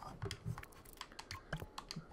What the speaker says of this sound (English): Also, I got a new keyboard and it's awesome.